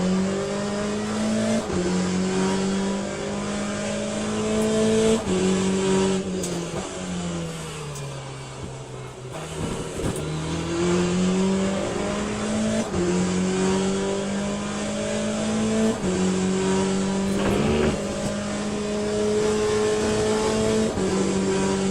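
A Corvette GTE race car engine in the Le Mans Ultimate racing game at Sebring: loud, close engine notes climbing repeatedly through the gears, with short drops at each shift and brief dips into lower revs.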